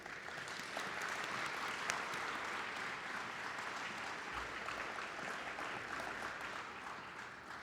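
A crowd applauds steadily to welcome a college president at a GBC Honors Day ceremony, with dense, sustained clapping that stays even for several seconds and no talk over it.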